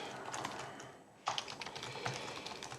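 Rapid typing on a computer keyboard while search-and-replace code is entered, dense clattering keystrokes close up, pausing briefly in the middle before resuming steadily.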